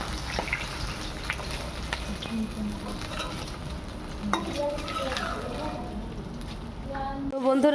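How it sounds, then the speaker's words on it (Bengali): A hilsa fish fries in a pan of hot oil while being flipped over, producing a continuous close crackling sizzle with occasional spatula scrapes and pan knocks. "মাছটা এক পাশ উল্টিয়ে দিচ্ছি, এক পাশ ভাজা হয়ে গেছে"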